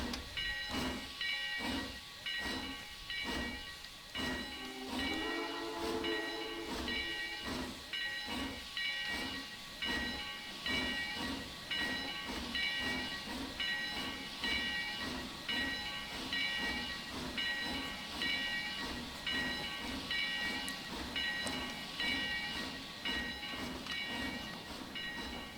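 Heavy 2-10-2 steam locomotive in the Trainz game, chuffing in a steady quick rhythm with continuous steam hiss and rail clatter, loud and close throughout, with no voices.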